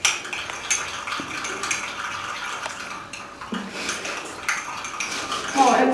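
Ingredients mixed in a bowl with metal utensils, close clinking and scraping against the bowl with a voice speaking briefly over it.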